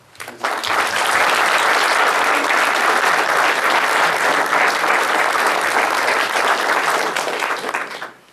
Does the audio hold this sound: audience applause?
yes